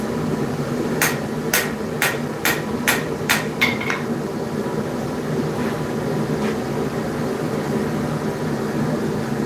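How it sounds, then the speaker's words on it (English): A hammer strikes a dagger being forged, six or seven evenly spaced ringing blows close up, then stopping, over a constant loud droning background hum. "My first actual attempt at forging a dagger"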